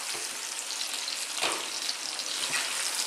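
Thai spicy chicken wings frying in a skillet, a dense continuous sizzle and crackle close by, with a brief louder spitting burst midway and no voices.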